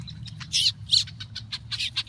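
Several birds near a rescued baby bird chirping outdoors, short high tweets repeating irregularly over a low background rumble, moderately close.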